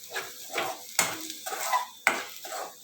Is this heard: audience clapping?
no